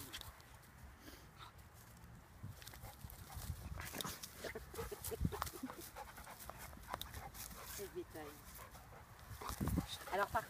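A playful dachshund pants in quick, soft breaths nearby, with occasional whimpers and small movements, recorded quietly indoors.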